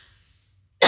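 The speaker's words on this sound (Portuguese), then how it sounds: "vou precisar tossir" A single sharp cough bursts out at the very end after near silence, close and loud.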